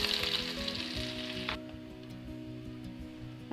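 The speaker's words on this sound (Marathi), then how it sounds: "कांदा थोडा तेलामध्ये होऊ देऊया।" Onion frying in oil, a bright close sizzle that starts loud and drops to a softer crackle halfway through, with faint clinks in the background.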